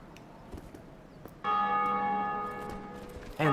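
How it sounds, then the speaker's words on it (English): A single deep church-style bell tolls in a Dark Souls game, rung from another player's session, striking once with a long ringing decay and a fresh strike at the very end, over quiet game ambience. "whenever somebody rings the bell in another session, you hear the bell ring in yours"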